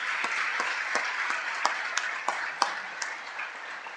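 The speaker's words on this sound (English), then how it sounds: "Give yourselves a well-deserved round of applause." Illinois senators in the Senate chamber applaud, a soft, distant spread of clapping with a few sharper individual claps standing out in a large room.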